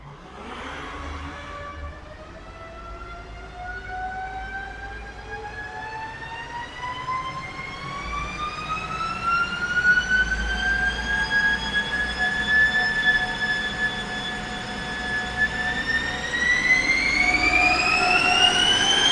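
A Volvo XC60 D4 diesel runs on a synchronized 4x4 dyno, its engine note rising steadily in a long loud climbing whine, dipping briefly and then climbing again.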